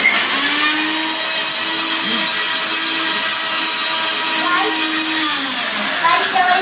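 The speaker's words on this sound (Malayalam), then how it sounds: "നമ്മൾ മിക്സി ഇട്ടു, പിന്നെ അടിക്കാൻ പോകണം" A mixer grinder blends a milkshake with a loud, steady, high-pitched whirring that runs unbroken throughout.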